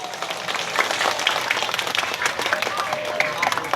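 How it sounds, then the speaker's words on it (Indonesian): A village audience at an Isra Mi'raj commemoration in Kampung Muli applauds the organising committee, sustained crowd clapping forming a dense, fairly loud patter mixed with talk. "Berikan tepuk tangan untuk para panitia di Kampung Muli."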